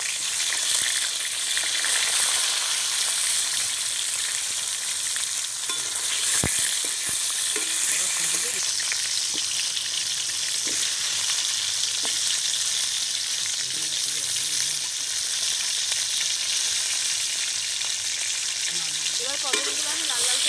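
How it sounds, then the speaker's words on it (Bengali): Pointed gourd frying in hot oil in a wok makes a loud, continuous sizzle with occasional soft clinks of stirring throughout. "এবার আমি পটলগুলো ভাজার জন্য তুলে দিচ্ছি কড়ার মধ্যে"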